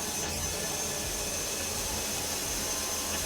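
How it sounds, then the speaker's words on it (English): Power drill lifting a desk through its crank mechanism, a continuous close whirring drone holding steady for the whole stretch with no talk. "Lifting it by handle would just take forever, so we use a drill."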